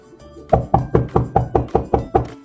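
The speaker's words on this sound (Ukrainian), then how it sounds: "Хтось стукає, мабуть, хтось завітав до нас у гості." Someone knocks on a door with eight evenly spaced, firm raps, close and loud against a quiet room.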